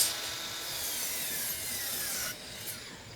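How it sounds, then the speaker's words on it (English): Cutting down a pressure-treated 4x4 wooden post, a faint, steady rasping saw stroke that continues briefly and then eases off, heard alone without talk. "Now we gotta cut the post down."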